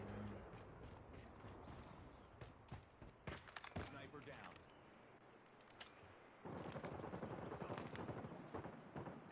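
Gunfire in the mobile shooter game Call of Duty Mobile: rapid bursts of automatic fire mixed with sharp single shots, loud and close, with a steady game backdrop between volleys.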